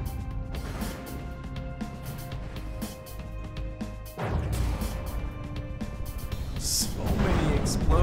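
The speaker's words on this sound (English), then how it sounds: "So many explosions on this thing." Explosions aboard a warship in the naval combat game From The Depths crash and thud in dense, overlapping bursts, swelling louder toward the end, with someone talking over the din.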